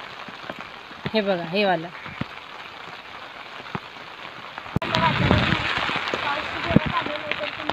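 Heavy rain falls outdoors in wind, a dense hiss of raindrops that grows louder and fuller halfway through, while someone speaks briefly early on.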